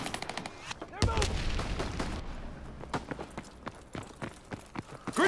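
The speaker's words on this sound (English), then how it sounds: "I'm drawing fire. We're losing the fight. Taking heavy fire!" Call of Duty: WWII multiplayer firefight with loud, repeated gunshots in sharp bursts and single cracks, some near and some distant, with faint voices under the shooting.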